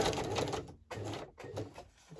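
A sewing machine stitches along a decorated journal page in short close bursts of rapid mechanical whirring, broken by brief pauses.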